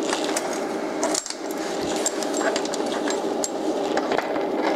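Stick welding with a 7018 rod on a Longevity Stickweld 200 portable 200-amp welder: a steady, close crackling sizzle of the arc with fine popping, briefly dipping near the start, then running on continuously.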